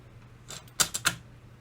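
A Sansui D-905R cassette deck loads a tape with a quick run of three or four crisp mechanical clicks and clunks, close and moderately loud, over a faint background hum.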